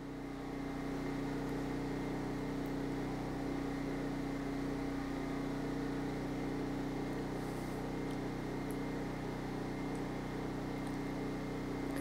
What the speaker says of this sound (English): Really hope that generator sound isn't driving you crazy too bad.